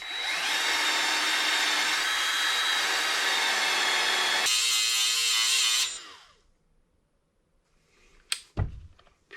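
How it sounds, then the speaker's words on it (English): Wire brush on a power tool scrubbing rust off a corroded brake line, a loud, steady whirring grind for about six seconds that then winds down, followed by a few sharp clicks and clatters. "I have a wire brush set up, so I'm going to do this."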